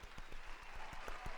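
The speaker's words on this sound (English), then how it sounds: "And to the hand claps here" Scattered hand claps, a small group applauding fairly close, the claps coming quickly and evenly through a brief burst with faint voices behind.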